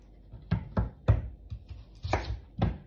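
A knife chops an onion into small cubes on a cutting board, with sharp irregular thuds close by, several strikes in quick succession.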